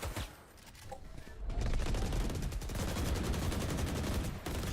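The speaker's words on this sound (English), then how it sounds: "Shots going off through the smoke" Bursts of rapid gunfire crackle through smoke during a competitive video game match on the Lotus map, dense sustained volleys at close range with a caster's voice faintly underneath.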